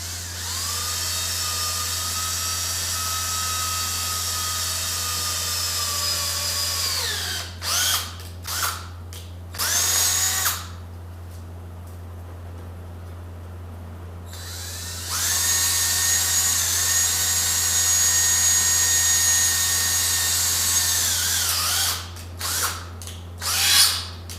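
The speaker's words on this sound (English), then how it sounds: "And now drill these 2 holes." A power drill whines loudly through two long drilling runs separated by short bursts and a pause, over a steady low machine hum, drilling holes for a custom cargo carrier on a Honda Acty kei truck.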